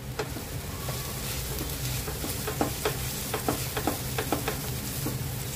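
A spoon stirs and mixes a party snack filling with salt and fresh coriander in a pan over the gas, making a steady low hum broken by repeated scraping and tapping strokes, some louder near the end.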